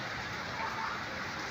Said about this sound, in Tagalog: tapos umuulan pa ngayon